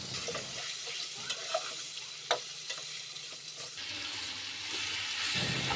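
Pointed gourd and potato stirred in a pan for a mrigal fish curry, a low sizzle with scattered utensil clicks and scrapes and a brief watery wash near the end, no voices.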